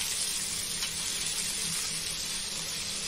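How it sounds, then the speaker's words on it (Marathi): Finely chopped onion hits hot oil and fries with a continuous, dense hiss and crackle, loud and steady for the whole stretch with no voices. "आता आपण कांदा टाकूया बारीक चिरलेला."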